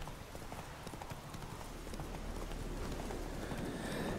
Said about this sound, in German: Reiten hier entlang.